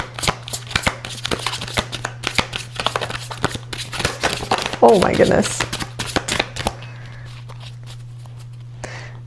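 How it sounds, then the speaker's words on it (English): A rapid run of papery clicks and riffles as cards are shuffled, with a louder flurry midway and a voice briefly exclaiming over it. "That was a very interesting shuffle."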